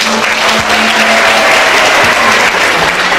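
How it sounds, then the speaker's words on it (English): A crowd of parents and children bursts into a loud, dense round of applause, continuous clapping filling the whole few seconds with faint voices underneath. "Please give yourselves and your children a big round of applause."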